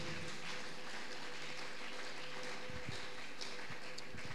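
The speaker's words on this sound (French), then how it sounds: "Acclamons très fort pour le roi." A church congregation applauds and cheers for the king, a dense, steady wash of clapping that fills the room for several seconds at moderate distance.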